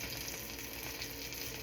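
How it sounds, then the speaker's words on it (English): Lamb chops searing in a hot pan give off a continuous, even sizzle that is faint and unbroken over a very short stretch, with no voices. "I'm just gonna sear these off"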